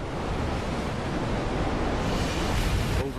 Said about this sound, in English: Overcast, choppy seas, and murky water.